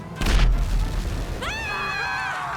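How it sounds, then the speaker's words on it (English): A deep booming burst with a short rumbling tail as a phone detonates in a video game, followed by a warbling electronic tone that rises and holds in several layered pitches. "give it a call, you set off a micro-explosion"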